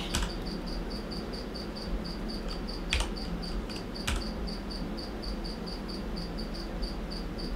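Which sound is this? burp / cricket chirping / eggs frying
cricket chirping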